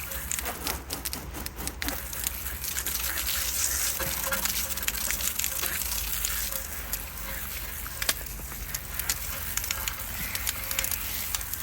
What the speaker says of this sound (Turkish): Güzelce durulayın bol suyla üzerinde kalmasın kesinlikle.